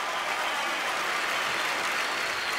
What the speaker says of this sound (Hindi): एक बार अपने लिए जोरदार ताली हो जाए इंदौर वालों।